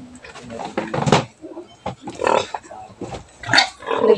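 Pigs grunt and squeal in bursts while being fed, close by, as people talk nearby.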